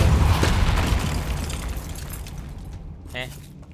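Depulso spell impact in the Hogwarts Legacy video game, a heavy booming burst with rumble that tapers off, followed by a faint rattling clatter, while a voice talks over it.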